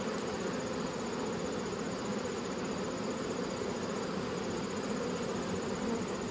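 Honey bees crowd a hive frame in early winter, a steady, dense buzzing hum held close and unbroken throughout.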